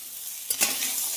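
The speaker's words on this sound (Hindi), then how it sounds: "प्याज को हम अच्छी तरह से चला चला कर सुनहरे कलर तक होने तक भून लेंगे" Onions are stirred and fried in a pan until golden, a constant close sizzle with a couple of brief spoon scrapes against the pan midway.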